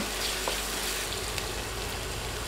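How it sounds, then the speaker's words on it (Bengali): Ground spice paste frying in a pan for khichuri, a steady close sizzle with faint crackles and a light stir or two, no voices. "বাটা মশলাগুলো কয়েক সেকেন্ড ভেজে নিব"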